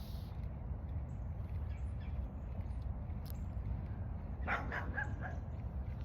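A dog barks a few times in the distance over steady low background rumble, faint and somewhat muffled.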